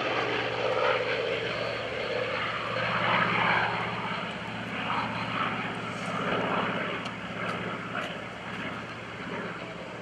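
F4U-5NL Corsair propeller fighter flying an eight-point aerobatic roll at the 2011 Boston Portsmouth airshow: a steady, moderately distant propeller drone that swells and eases slightly throughout.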